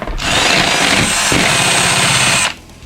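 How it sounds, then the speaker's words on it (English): A power drill bores a large hole, a loud, steady whirring grind close by that runs for over two seconds and then cuts off abruptly. "rip that out and drill a dirty big hole"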